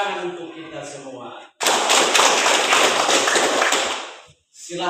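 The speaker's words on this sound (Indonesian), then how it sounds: "Tepuk tangan untuk kita semua" A classroom of schoolchildren bursts into loud, dense applause that lasts about three seconds after a stretch of talk and singing, then stops abruptly.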